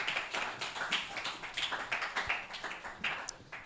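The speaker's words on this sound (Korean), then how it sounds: "박수." Youth congregation at a Sunday church service clapping together after a prayer, a dense patter of many hands at moderate distance, steady for a few seconds with no talking over it.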